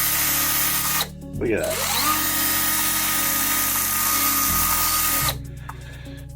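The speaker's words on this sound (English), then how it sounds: "it's a really high speed sand, that finger sander" A finger sander runs loud and steady at high speed on wood trim, a continuous power-tool whine broken by a brief pause and a change in pitch near the end, with a short spoken remark over it.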